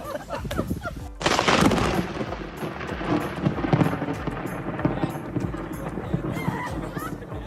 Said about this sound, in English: a lightning hit right after he said 2020 has not been the best year